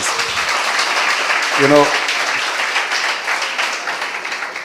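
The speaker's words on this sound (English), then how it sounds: "The round of applause." Audience applause fills a talk-show room, a dense sustained wash of clapping that stays steady throughout while someone briefly speaks over it.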